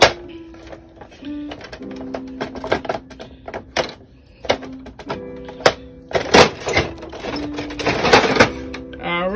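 Sublimation printer feeding and printing paper: rapid mechanical clacks and ratchets mixed with stepped motor whines, irregular and close, rising to busier bursts toward the end.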